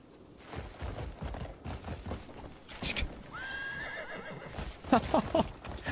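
Horse in the video game Crimson Desert whinnies in a short bright call midway, then hooves clip-clop in a quick uneven run near the end, over steady game ambience.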